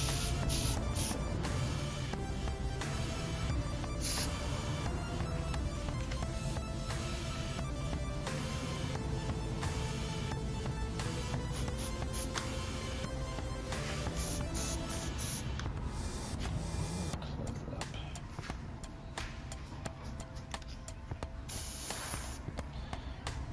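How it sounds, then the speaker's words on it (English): An airbrush hisses steadily and spits paint in uneven bursts while coating a small Bandai Millennium Falcon model, the continuous close spray broken by sputtering pops and no talk. "Something I don't like about this airbrush is it's really spitty, and it spits like globs out a lot"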